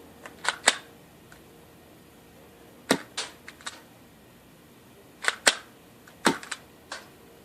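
Tokyo Marui MK23 airsoft pistol fired outdoors in several spaced bursts of two or three sharp snapping cracks, the quiet shots mixed with pellets smacking a fence.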